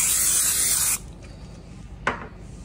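A baking pan for banana bread gets greased with a close, loud hiss of cooking spray lasting about a second, then a quiet pause and a single short clack of the pan.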